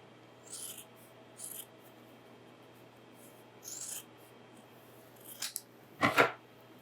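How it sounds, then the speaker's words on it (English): Scissors snip through a strip of scrap leather in a workshop, a couple of quick close cuts near the end after softer scattered handling noises over a quiet background. "So I'm going to cut me a strip of this."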